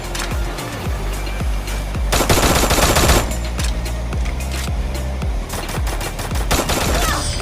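Rapid bursts of gunfire from a shooter video game crack loudly and repeatedly, with sharp single shots and sustained automatic volleys over a dense, busy game soundscape.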